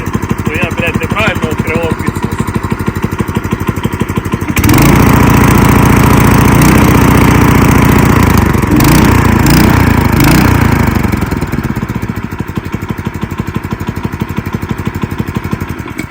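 A walk-behind tractor's small engine chugs loudly and close with a rapid, even beat, revving harder for several seconds before settling back to a steady idle; voices can be heard near it.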